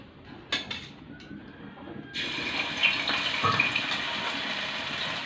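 Ginger garlic paste dropped into hot coconut oil for a Kerala chicken curry, bursting into a loud, steady sizzle after a quieter start and continuing close and unbroken to the end.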